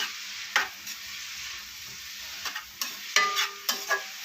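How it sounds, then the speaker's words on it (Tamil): Chopped beans and vegetables sauté in a pan while egg noodles are being cooked. A steady soft sizzle runs throughout, broken by several sharp clinks and scrapes from a stirring utensil against the pan. "இப்போ எல்லாமே நல்லா வதங்கட்டும்"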